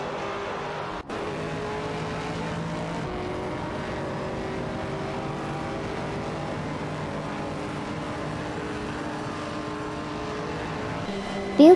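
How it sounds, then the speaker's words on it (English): Race cars, including a Ginetta G55 Super Cup and a KTM X-Bow GT4, battle for pole in a racing video game, giving a steady, continuous engine drone with shifting pitch and no break. "The battle for pole is intense between Waintra 94 from Team Wangan Midnight Runners in a Ginetta G55 Super Cup"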